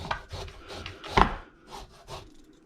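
Fresh ginger rubbed against a microplane grater makes a quick series of about seven rasping strokes, close and moderately loud, with no talking.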